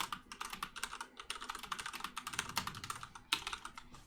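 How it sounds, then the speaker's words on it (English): Rapid, continuous typing on a computer keyboard, with crisp irregular key clicks close to the microphone and no voices. "Stop typing, Dane."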